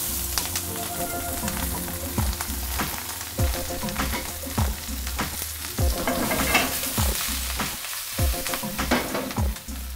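Zucchini, eggplant, peppers and onion sautéing in a pan over high heat, with steady loud sizzling and frying and repeated sharp stirring scrapes, and no voices.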